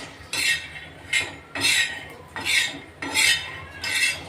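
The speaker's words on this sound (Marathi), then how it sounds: "शेंगदाणे आपले आता भाजत आले" Peanuts dry-roasting in a pan, stirred with a spoon in about six steady, rhythmic scraping strokes, close and clear, with no voices.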